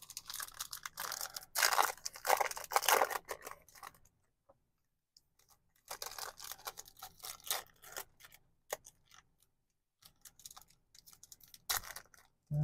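Crinkly tearing and crunching of packaging as a 2021 Topps Chrome Platinum retail box and its card packs are ripped open, in close, uneven bursts separated by short quiet gaps.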